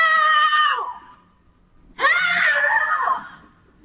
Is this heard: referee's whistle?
no